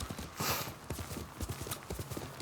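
A horse's hooves clip-clop in a steady, fairly quiet trot in Ghost of Tsushima, with a faint rush of wind in the background.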